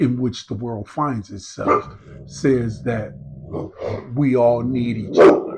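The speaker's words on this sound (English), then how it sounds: "Y'all excuse my dog." A household dog barks a few times in the background, briefly and partly buried under a person talking steadily nearby.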